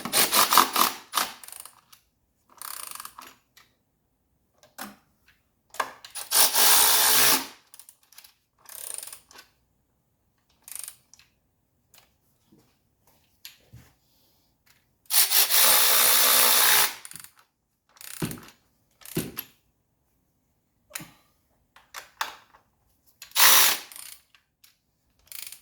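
Ratcheting tool running down 13 mm nuts on the engine of a 1985 Mercedes 300D, heard as short, sharp bursts of mechanical whirring and clicking separated by quiet pauses, close by.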